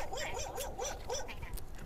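A dog barks repeatedly in quick bursts on a houseboat raft at Châu Đốc, Vietnam, fairly close, over a steady background of water and outdoor ambience.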